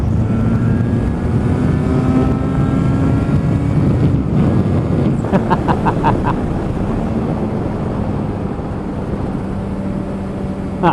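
A two-stroke Yamaha RD350 motorcycle engine buzzes hard on the power band while being ridden, rising in pitch through the revs under heavy wind rush, with a sharp run of rapid pulses partway through.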